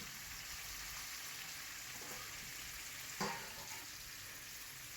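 Chicken pieces fry in oil in a wok with a soft, continuous sizzle, and a brief clatter near the middle rises over the steady hiss.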